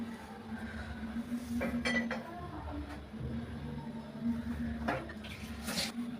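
Hot tomatoes being crushed with a pestle, soft irregular thuds and light clinks of the pestle against the bowl, close and moderately quiet over a low steady hum.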